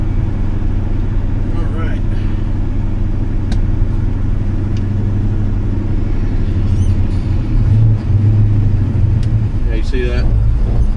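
A car engine pulls hard under heavy throttle in a tall gear, a steady loud low rumble running the whole time with a brief swell near the middle, and someone talking over it throughout.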